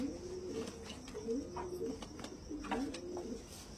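Andhra pigeons coo nearby in a soft, repeated rolling rhythm, several throaty calls overlapping at low volume with a few faint chirps.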